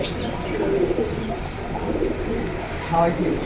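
Pigeons coo softly and repeatedly at a busy pigeon market in Jinjira bazaar, with occasional brief chirps, while people talk nearby over the low crowd noise.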